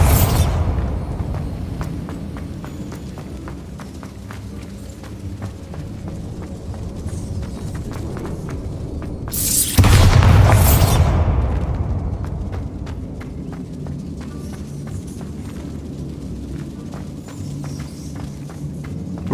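A Bombarda explosion spell in the Hogwarts Legacy video game bursts once with a loud, booming blast about halfway through, then fades into a soft ambience of steady footsteps and faint background noise.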